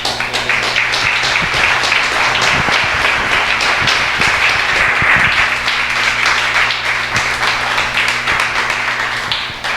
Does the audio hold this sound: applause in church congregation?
yes